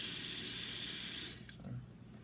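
Tap water runs steadily into a frying pan, filling it to about an inch deep, then cuts off partway through, leaving a faint trickle and quiet room tone.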